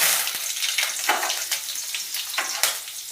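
Mustard seeds, cumin, dried chilli, two cloves and curry leaves hitting hot oil for a Gujarati tempering, crackling and sizzling with sharp popping bursts and stirring, fairly close.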